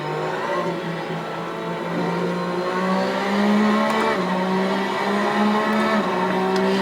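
Race car engine in the Assetto Corsa sim racing game, running steadily then dropping through downshifts to third and second gear, the revs stepping in pitch while a continuous whine holds loud and close throughout.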